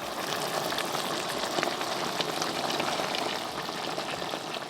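A cornstarch-thickened sauce simmers in a pan, giving a steady, dense bubbling and crackling that runs on evenly, close and unbroken.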